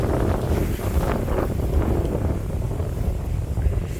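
Strong, steady wind blows all day in the Odesa region, roaring and buffeting hard against the microphone without a break, with no voices.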